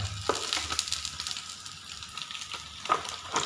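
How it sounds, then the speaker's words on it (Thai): Steady oil sizzle from an omelette with salted egg frying in a pan, with soft crackles and pops rising now and then, fairly quiet and close, no voices. "เห็นปะนี่คือไข่เจียวใส่ไข่เค็ม"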